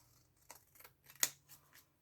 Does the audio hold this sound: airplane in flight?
no